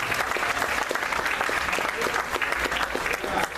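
A church congregation applauds at an evening service, a steady, fairly loud wash of many hands clapping with a faint murmur of voices underneath, continuing without pause.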